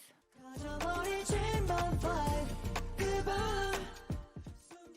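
Chorus of a song, a full pop production with layered vocals and a steady beat, loud and continuous before thinning out near the end.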